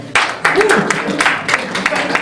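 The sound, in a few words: audience applause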